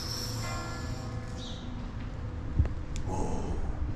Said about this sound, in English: You can hear the bells of the Kalkara church.